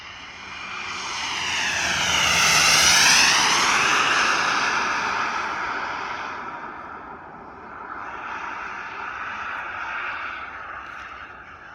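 Turbine-converted T-38 model jet engine running at half power, a loud rising and falling jet roar with whining turbine tones that swell to a peak and then ease off, heard alone.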